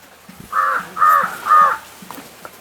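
A crow caws three times in a village setting, loud and fairly close, evenly spaced harsh calls over quiet background.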